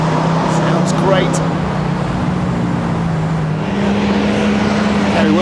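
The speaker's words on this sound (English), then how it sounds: "Now a 289 V8 in this Ford Mustang of Stephen Smith." A 289 V8 Ford Mustang notchback races up a hillclimb course, its engine a loud, steady roar that climbs in pitch through the gears, with a commentator talking over it.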